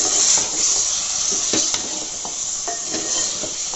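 Mutton pieces stirred in a cooking pot for handi mutton, a steady sizzle under scraping and clinking of a spoon against the pot, close and continuous.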